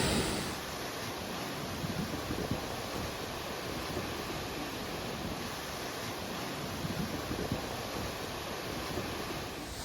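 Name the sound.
waterfall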